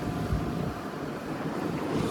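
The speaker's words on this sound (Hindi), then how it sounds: "उफान मार रही है नदी।" Swollen Alaknanda river near Devprayag rushing in a steady, loud broadband roar of churning water, continuous throughout with some wind buffeting on the microphone and no talking.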